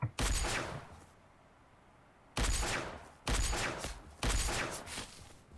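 Loud gunshot bursts in the online battle royale game Surviv.io, four sharp volleys of rapid fire with a long quiet gap after the first, close and alone without talk.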